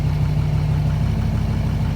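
A heavily accessorised truck idles with a steady, loud low rumble and a constant hum, its tone shifting slightly as its lights draw power.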